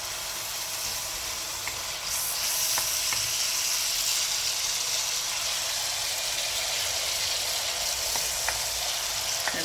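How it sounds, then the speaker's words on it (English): Onion and garlic sizzling and frying steadily in a hot pan for chicken adobo, a close, continuous crackle with occasional stirring clicks. "So once we saute the onion, then you put the garlic."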